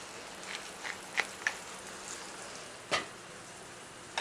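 Lobster sautéing in olive oil gives a soft, steady sizzle with scattered crackles and pops, plus a sharper spatter near the end, all alone without speech.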